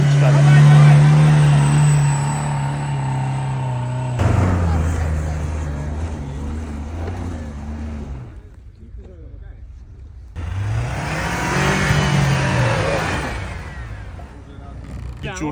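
A car engine revs hard while it climbs a steep two-humped hill. The roar rises and falls in loud surges with a short drop-off in the middle, and some voices are faintly mixed in.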